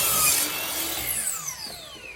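A miter saw cutting door trim casing, a loud close whine of the blade through the wood that spins down with a falling pitch, with no talk.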